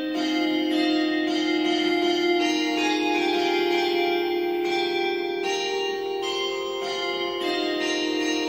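Midday bell chime ringing steadily and loudly, its sustained, overlapping tones filling the whole stretch with no voices over it.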